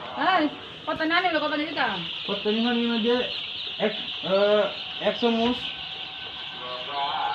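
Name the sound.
chickens clucking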